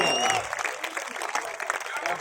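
Audience applause at a Hindi poetry recital, a continuous patter of clapping from a crowd with voices mixed in throughout.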